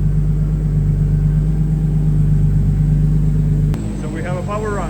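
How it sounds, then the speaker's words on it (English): Nissan Skyline engine held at a steady, loud drone during a dyno-style power run on 100 octane racing fuel, then dropping off abruptly near the end as a voice starts talking. "So we have a power run."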